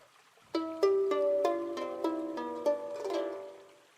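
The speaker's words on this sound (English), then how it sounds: "Here is the sound of harp." Plucked harp notes ring out one after another in a steady sequence, each string resonating and overlapping, played alone and clearly.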